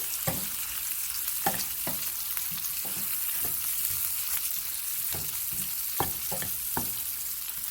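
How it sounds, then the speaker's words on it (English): Sausage, pepper and onion frying in a pan, a constant close hiss of sizzling fat punctuated by sharp scrapes and taps as a utensil stirs them, with no talking. "And then we can stir this around."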